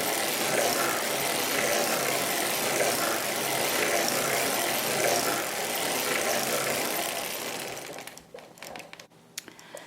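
A hand-cranked circular sock knitting machine working a Fair Isle sock gives a dense, steady mechanical clatter of needles and gears that slows and breaks into separate clicks as cranking stops near the end.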